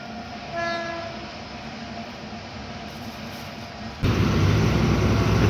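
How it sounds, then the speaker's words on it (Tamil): Goods train at an Indian railway crossing sounds its horn in a few drawn-out blasts, then the wagons thunder past loudly and close by for the final seconds, with no voices. "இது கூட்ஸுங்க, கூட்ஸ் வண்டி."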